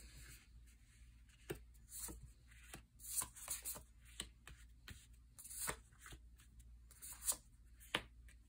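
Tarot cards are shuffled by hand at close range, soft irregular riffles and slaps of the deck repeating in bursts, quiet with no talk.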